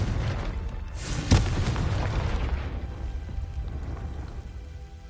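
A Confringo fire spell blast in a video game, one sharp crack followed by a rumbling, hissing roar that gradually fades away.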